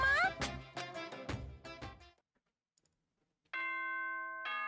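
The morning announcement chime from Danganronpa, a video game, sounds as a run of bright descending bell tones, then a pause, then a sustained chiming tone.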